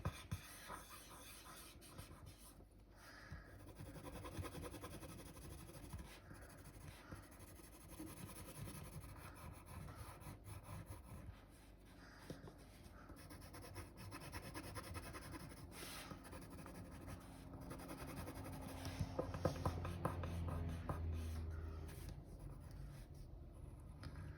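A finger rubs pencil shading on a paper sketch, giving a faint, continuous scratchy rubbing with small repeated strokes and no voices.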